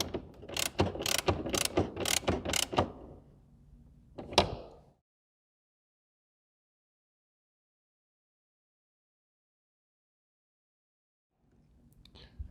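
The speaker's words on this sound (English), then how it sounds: "And now I'm going to put a little bit of tension on these nuts." A hand ratchet clicks rapidly through several strokes while snugging nuts on an Aston Martin DB9 tail light, ending with a single clunk and then near silence, with faint noise returning at the very end.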